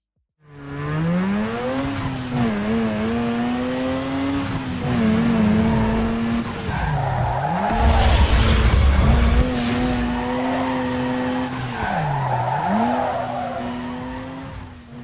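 A race car in a driving simulator game revs hard, its engine note climbing and dropping through gear changes while tires squeal and skid repeatedly through corners, loud and continuous with no voices.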